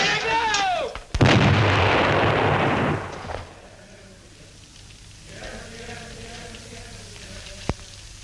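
A bomb explosion destroying a barber shop in an old film, a sudden loud blast with a crackling rumble of debris that fades into quieter ambience and a sharp click near the end.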